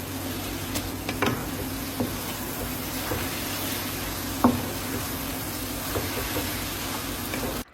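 Chili peppers (siling labuyo and green chilies) go into laing simmering in reduced coconut milk that has started to release oil, giving a steady soft sizzle with occasional faint stirring knocks and no talk.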